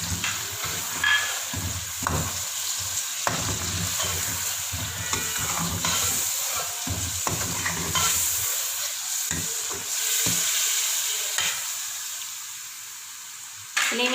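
Tomato paste fries in a pan for chicken korma, a steady close sizzle broken by frequent scraping and clinking stirs that thin out toward the end.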